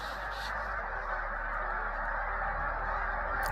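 A large flock of geese honks continuously, a dense, steady chorus of overlapping calls filling the scene without pause.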